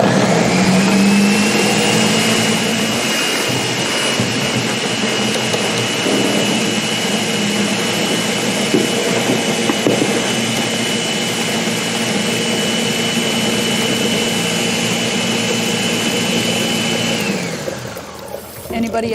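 A small-batch CB200 machine grinds dill pickles with a loud, steady whirring roar that holds for nearly twenty seconds before winding down at the end, with voices talking over it.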